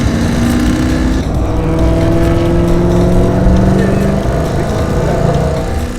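A race car on a warm-up lap of a track, heard from on board as a loud, steady engine drone with shifting pitch that builds and eases across the lap.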